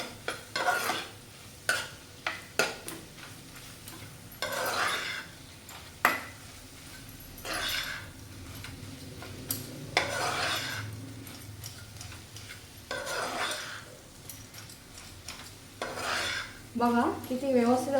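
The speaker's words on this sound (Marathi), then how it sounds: "बेसन भाजून घेतलेलं आहे दोन चमचे ते आपण ह्याच्यामध्ये ॲड करूया आणि ते पण छान असं मिक्स करून घेऊया" A spoon stirs roasted gram flour into misal curry in a pan, giving quiet, repeated scraping and clinking strokes in an uneven rhythm.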